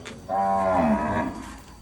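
A cow moos once in a cattle pen, a loud, drawn-out low call that starts sharply, swells, then tails off over nearly two seconds, close by and with no talk.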